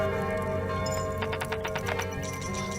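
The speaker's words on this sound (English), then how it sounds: "Okay, now the bells have sounded." Bells ring in the video game Kingdom New Lands, a run of bright struck tones over a sustained musical bed with faint hoof-like clopping underneath.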